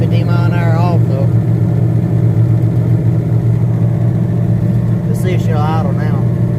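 An old truck idles after a cold start with a steady, close, low rumble throughout, while voices speak briefly over it near the beginning and end.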